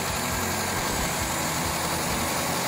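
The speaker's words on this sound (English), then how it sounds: "Engine is running nice." A 1991 Mini Cooper engine idles steadily nearby, a continuous low rumble with a faint irregular pulsing and a broad hiss on top, with no voices.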